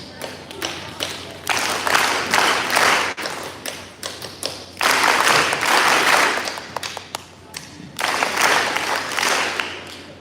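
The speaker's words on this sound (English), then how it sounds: "I'll clap and you clap back" A school audience claps back in a follow-me pattern at a community school event, with several bursts of crowd clapping separated by short pauses and scattered individual taps between them.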